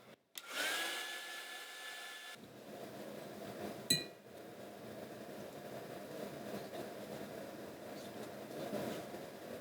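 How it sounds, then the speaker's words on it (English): A hair dryer blowing on wet watercolor paint, a steady close whooshing hum that kicks in after a brief clink and continues evenly, with a sharp knock partway through. "I'm gonna just grab that and then blow dry that"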